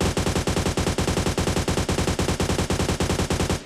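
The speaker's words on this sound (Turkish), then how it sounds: "ikinci slotumuz olan AUG 6X ile tarayacağım ben onu." An AUG rifle with a 6x scope fires in PUBG Mobile, giving a long, loud, rapid automatic burst with evenly spaced cracking shots that runs nearly the whole time.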